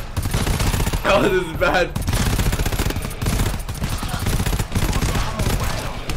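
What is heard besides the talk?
gunfire in video game GTFO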